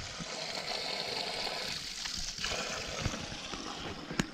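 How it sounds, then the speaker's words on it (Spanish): Small mountain waterfall on a hiking route near Montrondo, trickling and splashing close by in a continuous gurgle, with a few sharper drips and splashes standing out. "decían que una cascada, a cualquier cosa ya le llaman cascada"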